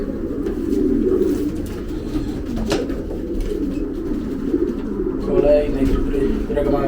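Racing pigeons coo in a loft, a steady low murmur of birds running throughout, with a person talking over them and a brief louder burst near the end.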